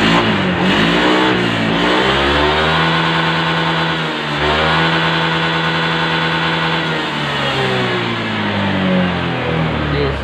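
Honda Vario 150 scooter after servicing for a stumbling, weak engine, running loud and close, its engine note rising and falling through several revs with a busy mechanical drone throughout.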